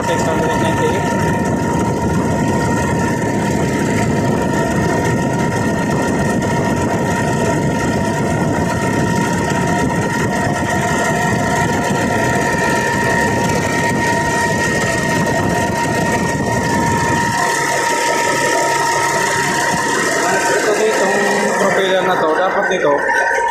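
A Caterpillar diesel engine runs steadily after a valve repair, a loud, continuous mechanical drone with harmonic hum that drops away near the end.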